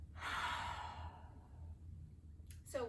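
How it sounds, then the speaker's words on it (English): A single deep breath pushed out through the mouth during a guided yoga breathing exercise, a soft breathy rush that fades over a second or so, followed by a brief faint sound near the end. "Breathe in through your nose and out through your mouth."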